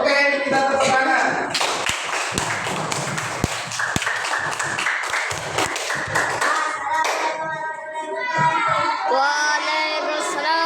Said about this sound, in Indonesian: Oke, kita tepuk tangan.